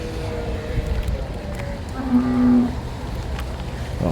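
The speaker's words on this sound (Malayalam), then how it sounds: "ചട്ടിപ്പറമ്പ് ചന്തയിലെ തലേ ദിവസം ശനിയാഴ്ചകളിൽ തന്നെ കന്ന് നിറഞ്ഞതായിട്ടുള്ള കാഴ്ച" Cattle at the Chattiparamba livestock market in Kerala the day before market day, with one close, drawn-out low moo rising above a busy crowd murmur and other animal calls, while people talk in the background.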